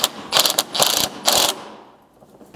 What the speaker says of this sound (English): you'll need your 12mm socket to thread this in and tighten it up